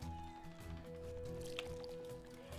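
Watering plants in Crossroads Inn produces soft, faint wet squishes and dripping liquid sounds, set against a low steady game music background.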